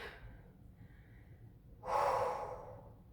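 A single long, forceful exhale during a yoga flow, close to the microphone, rising suddenly after quiet room tone and trailing off over about a second.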